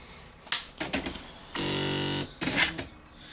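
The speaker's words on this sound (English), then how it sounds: "So then you just turn on the typewriter." A Panasonic KX-R210 electronic typewriter powers up and runs, giving a few short mechanical clicks, then a steady buzzing whir that lasts under a second, followed by more brief clatter. Close and fairly quiet, with no voices.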